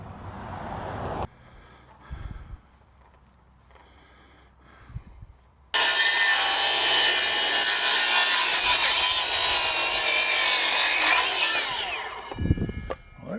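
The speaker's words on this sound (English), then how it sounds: "Let's see if we can get a few more saw cuts out of one more battery" A battery-powered saw cuts wood for a front yard fence: after quiet handling knocks, a loud, close, sustained cutting whine runs for several seconds and then winds down.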